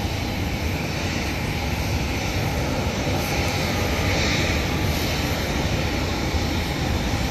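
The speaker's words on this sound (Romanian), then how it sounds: "Exact acum ne aterizează avionul nostru." An airplane lands at an airport on the Azores, heard as a steady, broad engine roar that holds for several seconds without breaks, close and fairly loud.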